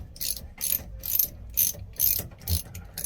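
A ratchet with a 7mm socket loosens a strap on a generator raw water cooling filter aboard a Lagoon 450 catamaran, giving rapid, close clicking bursts in an even back-and-forth rhythm, about six strokes.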